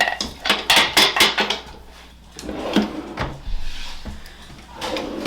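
A drawer slides open and items clatter inside it during a skincare declutter, with a burst of rattling, knocking hard objects up front, then quieter scattered thumps and a softer shuffle as things settle.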